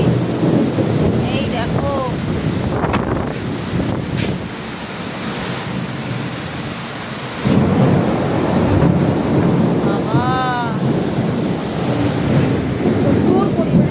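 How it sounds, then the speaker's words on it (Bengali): Heavy rain pours steadily as a loud, continuous wash close by, with blustery rumbling that may carry thunder during a storm; a person speaks briefly over it. "বিশাল জোরে জোরে বাজ পড়ছে। কি বিভৎস বৃষ্টি"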